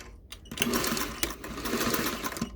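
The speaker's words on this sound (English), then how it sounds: "So we're gonna stitch. We're gonna try really hard to come right to this point here." A domestic sewing machine stitching an underarm gusset seam, running in a steady close whir with slight pulsing after a brief click at the start.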